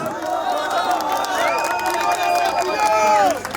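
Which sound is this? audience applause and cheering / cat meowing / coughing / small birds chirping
audience applause and cheering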